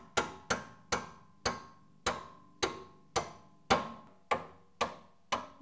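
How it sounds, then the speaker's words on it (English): A hammer strikes a suspension shock bolt on a Nissan 350z, ten sharp metallic blows landing at a steady rhythm about half a second apart, each ringing briefly, close and loud. "We're just going to hammer this out."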